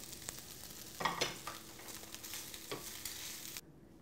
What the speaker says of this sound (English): I'm going to take my pastrami, put it in the frying pan, and put it back on the fire.